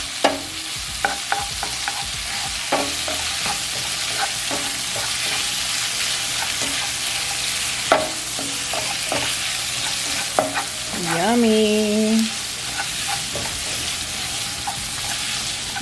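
Butter sizzling and frying in a pan while being stirred, a steady hiss with scattered clinks of a utensil against the pan throughout, and a brief exclamation from a person near the end.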